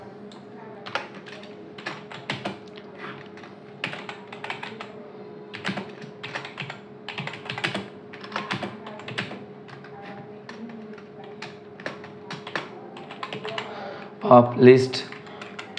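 Steady typing of Python code on a computer keyboard, many close, crisp keystrokes in an uneven rhythm, with a faint voice speaking at times and a louder burst near the end.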